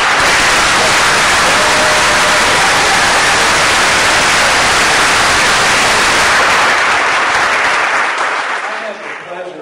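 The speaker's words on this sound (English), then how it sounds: "how about another round of applause for these young men?" Loud, sustained audience applause for peace officer graduates at a college ceremony, a dense wash of many clapping hands and crowd noise that tapers slightly at the end.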